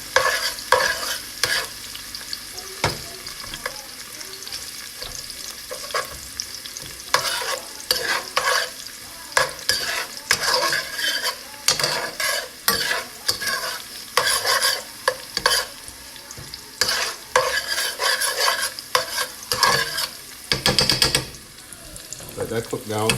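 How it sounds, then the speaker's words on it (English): Red onions cook down in a pot for jollof rice, stirred vigorously with repeated scraping strokes over a steady sizzle, the loud bursts of stirring coming in irregular runs. "Just keep stirring it."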